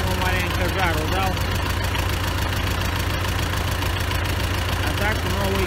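An MTZ-82 tractor engine runs steadily at a loud, constant idle, a low continuous drone filling the whole stretch with no pauses.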